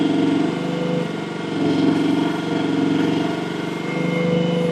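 A MechMaxx mini excavator engine runs steadily at low throttle during clay digging, a loud continuous mechanical drone with slight swells in pitch and no voices.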